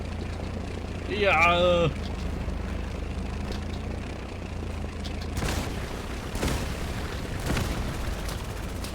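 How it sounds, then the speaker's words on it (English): A Stuka dive bomber in the Easy Red 2 battlefield game gives a steady low engine drone, then three heavy booms land about a second apart. A voice speaks briefly near the start. "We are going to Stuka dive"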